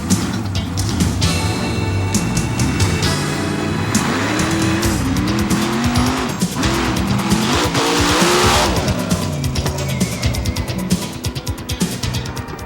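A Monster Jam monster truck drives over a set of parked cars, its engine roaring loudly and continuously with rising and falling revs, squealing tires and crunching impacts from close by.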